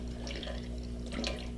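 Air bubbles up through water in a plastic breeder box for aquarium fish, a steady close trickle and gurgle with a constant low hum underneath.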